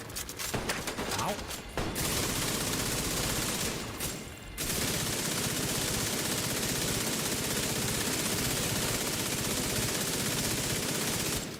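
Turret gunfire in a video game rattles as sustained automatic bursts, dense rapid shots that fill nearly the whole stretch with only a brief gap, loud and close.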